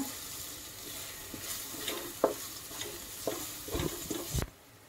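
Onion fries with garlic ginger paste in a pan for a cashew curry, a steady sizzle broken by several clinks and scrapes of a spoon stirring, close and fairly quiet.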